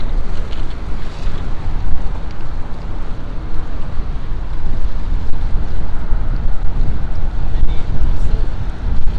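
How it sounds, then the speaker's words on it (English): Water sloshing and churning with steady wind buffeting the microphone, a continuous, fairly loud rush without pause, in New York Harbor near the Statue of Liberty. "But hopefully you can hear the nice water sounds."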